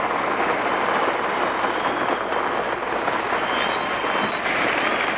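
A large figure skating crowd applauds loudly and steadily, a dense wash of clapping filling the space with a brief whistle or cheer rising near the end.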